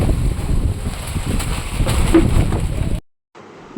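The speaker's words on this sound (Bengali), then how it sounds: "কি হারে ঝড় উঠেছে" Strong storm wind gusts at night in a village home, a loud continuous roaring rush with buffeting mic noise for about three seconds, then it cuts out abruptly.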